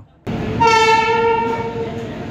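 The 02023 Howrah–Patna Jan Shatabdi superfast express at Asansol sounds a long, loud horn blast right after a brief quiet moment, over the steady rumble of the train.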